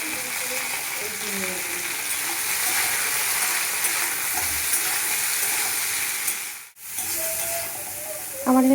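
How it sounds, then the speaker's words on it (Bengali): Yardlong beans fry in a pan with garlic and chilli, a continuous close sizzling hiss with light stirring, faint talk in the background and a brief dropout near the end. "রসুন দিয়ে নাড়াচাড়া করে বটবটিগুলো দিয়ে ভেজে নেব।"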